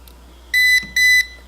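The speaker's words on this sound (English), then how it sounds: "You'll hear 2 beeps and it'll stop." Two loud, clear electronic beeps from an H2 water bottle hydrogen generator as it stops, close by, each about a quarter second with a short gap between, over a faint low hum.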